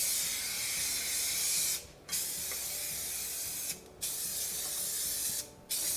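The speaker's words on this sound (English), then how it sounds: "I just spray it with some non-stick spray" A close can of non-stick cooking spray hisses in three long steady bursts onto cake tins, each separated by a brief pause, loud and without any talking.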